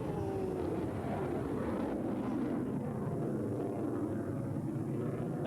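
An F-16 fighter jet flies at an air show, a continuous broad jet roar that stays fairly distant and steady throughout.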